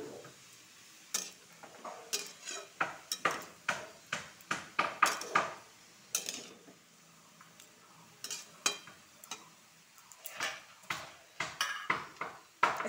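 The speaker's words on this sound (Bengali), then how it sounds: "এটা সাথে লাড়াচাড়া করব।" Vegetables, including bottle gourd with salt and a little turmeric, are stirred in a cooking pot, giving repeated close scraping and clinking strokes in an irregular rhythm with brief pauses, no voices.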